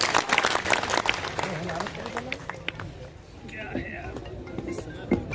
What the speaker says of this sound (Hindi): तालियां उठें